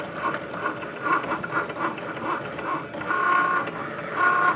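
A Cricut cutting machine draws a dinosaur with a pen, giving a steady mechanical whir with repeating carriage pulses and soft ratcheting clicks, fairly close and without speech.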